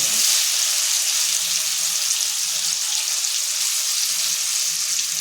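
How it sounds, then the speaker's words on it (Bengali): Tomatoes fry in a pan with a constant, loud, close hiss of sizzling oil that holds steady throughout, with no voices. "টমেটোটা ভাজা হয়ে গেছে"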